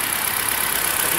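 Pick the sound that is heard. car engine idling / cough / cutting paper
car engine idling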